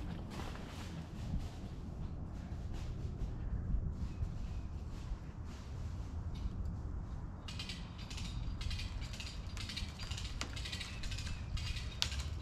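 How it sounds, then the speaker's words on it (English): A hand-pumped ratchet tree tool clicks repeatedly, with rapid mechanical ratcheting and clunks over outdoor background noise, fairly close and moderately loud. "I'm gonna pull my pump to my heart's content on the ratchet"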